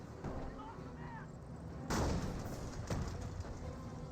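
Gunfire in the World War II strategy game Company of Heroes, with scattered sharp shots and a couple of heavier booming reports at irregular intervals over a low battlefield rumble, all beneath a commentator's voice.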